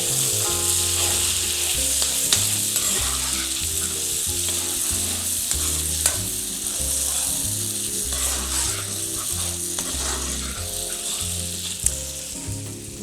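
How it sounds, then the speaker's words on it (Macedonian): Porcini mushrooms fry in oil with a continuous close sizzle and crackle, joined throughout by a rhythmic mechanical whirring and a few sharp clicks, with no talking. "Пропржете ги, за да го испустат својот вкус со помош на маслото."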